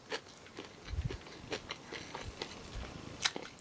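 Hungry cat eating food close by, with soft irregular biting and chewing crunches over a quiet background.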